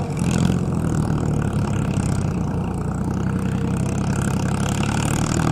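John Deere 5310 tractor with a three-cylinder John Deere 3029 diesel of 53 horsepower, idling steadily up close with a low, even rumble that stays constant throughout.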